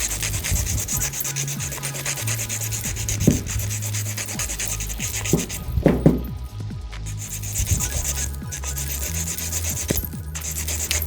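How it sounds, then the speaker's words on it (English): A coarse grit nail file for acrylic nails rasps steadily across a fingernail in close, continuous back-and-forth strokes with a few slightly louder scrapes, and no talking. "This is a coarse grit nail file."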